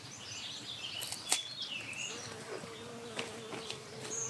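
Bees buzz faintly around borage plants in a home herb garden, their drones rising and falling as they move close and away, with soft bird chirps in the background.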